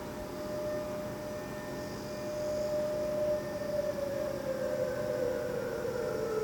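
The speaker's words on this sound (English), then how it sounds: "Yes, that is an air raid siren here in South Korea." Air raid siren sounding across South Korea during a nationwide civil defense drill, a steady distant wail holding one pitch and then slowly rising and falling, heard alone over outdoor ambience.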